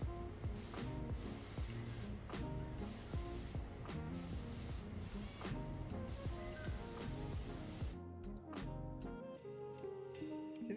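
Pressure washer spraying in Powerwash Simulator, a steady, loud hiss of water jet running continuously over game music, with a brief drop and change in texture near the end.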